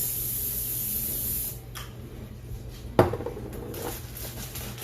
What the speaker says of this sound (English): I usually spray a little cooking spray in it just so nothing sticks.